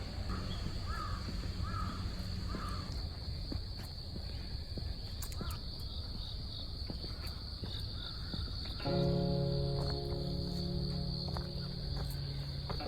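Crows caw a few times in the distance over a constant chirr of crickets and insects in a Tokyo park at night, with faint footsteps and a low outdoor hum.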